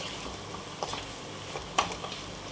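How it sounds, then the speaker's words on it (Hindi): Dry spices for bread pakoda stuffing stirred in a hot frying pan, a steady low sizzle broken by a few faint scraping ticks from the spoon. "सभी मसालों को मैं इसके अच्छे से मिक्स कर देते हैं।"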